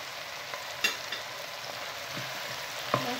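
Beef shank coated in tomato paste is stirred in hot oil, giving a soft, steady sizzle with a few faint scraping clicks from the utensil, close but quiet, with no one talking.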